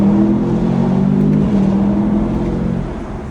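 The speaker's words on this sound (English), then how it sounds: "So let's give it a little bit of gas," A 2021 Chevrolet Camaro SS V8 accelerates with a steady, loud engine drone and rising harmonic tone that holds for about three seconds, then eases slightly at the end, heard from inside the car with no talking.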